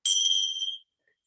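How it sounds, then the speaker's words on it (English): A single bell is struck once to open a restorative yoga session, a bright ringing tone that fades quickly into silence. "So we'll begin with the bell."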